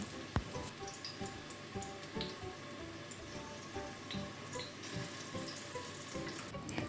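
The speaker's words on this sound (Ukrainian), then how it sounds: "і починаємо смажити. Нам потрібно довести нашу картоплю до золотистого кольору." Potatoes sizzle and crackle in a hot pan, a soft continuous frying hiss with scattered pops, quiet and close.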